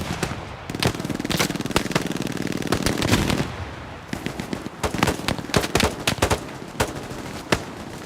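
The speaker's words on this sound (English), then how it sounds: "There's a bunch of bullets whizzing by back here" Rapid bursts of gunfire in the World War II shooter Hell Let Loose, a sustained dense machine-gun rattle for about three seconds followed by scattered sharp shots and cracks of passing rounds, loud and close.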